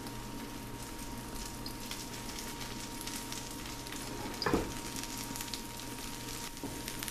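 An egg omelette with cheese sizzles steadily in a frying pan, a continuous frying hiss with a brief louder scrape or stir partway through.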